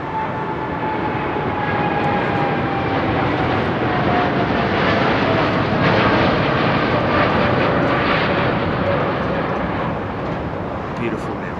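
A Boeing 787 Dreamliner jet takes off at London Heathrow, its engine roar loud and steady throughout with a slowly falling whine, while a voice talks over it.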